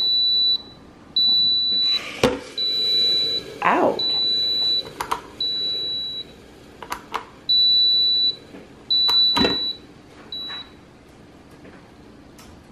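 A kitchen egg cooker beeps in a series of short, high, steady tones at irregular intervals, with clattering and a few spoken words between the beeps.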